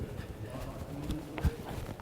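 A few quiet hoof thuds from a horse working cattle in a cutting pen, soft and irregular against low background noise.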